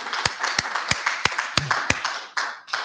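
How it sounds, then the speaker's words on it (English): Audience gives a short round of clapping for a man named Bobby at a community gathering, sparse sharp claps from a modest group, fairly close, with no talk over it. "let's give him a clap."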